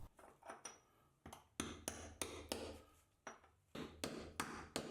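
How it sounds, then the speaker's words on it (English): Hammer driving a chisel into the centre of a damaged tile, a series of sharp ringing strikes close by, spaced irregularly in quick clusters with brief decays, no voices. "And then still hammering towards the centre, widen the hole."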